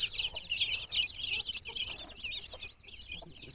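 Young chicks being fed ground-up roti keep up a steady, busy chorus of high, overlapping cheeps and soft clucks, close by and fairly quiet throughout.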